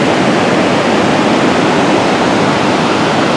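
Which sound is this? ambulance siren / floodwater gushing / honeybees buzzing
floodwater gushing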